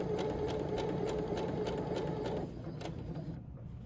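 A sewing machine runs steadily, stitching fabric for a wrap jacket with a rapid mechanical whir, close and moderately quiet, easing slightly near the end.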